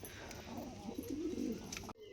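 Saharanpuri pigeons, including Laljira, kath lal, green and lalsira birds, coo in a low throaty rolling run that builds and then cuts off abruptly, close and alone.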